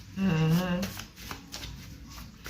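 Tarot cards riffled and shuffled in the hands, a short crisp burst of papery flutter followed by softer card handling, with a brief vocal sound over the start.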